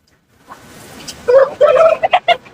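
At a busy poultry market in Kunnathur, a chicken or rooster lets out a short run of clucking calls close by, rising in a few quick bursts over low crowd murmur.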